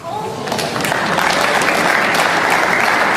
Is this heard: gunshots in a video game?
no